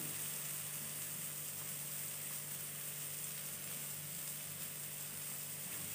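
Pineapple slices grilling in a pan on a stovetop give off a continuous, even, loud sizzle with a faint steady hum beneath, no voices.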